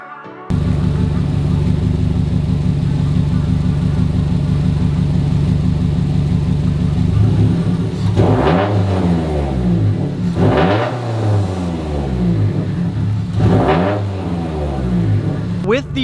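A turbocharged car engine idling with its fuel pressure regulator reference line reconnected, a steady low rumble close by that is broken by a few brief revs swelling and fading in the second half.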